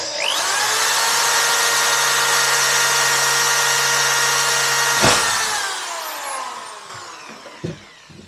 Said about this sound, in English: make sure I don't snap the drill bit.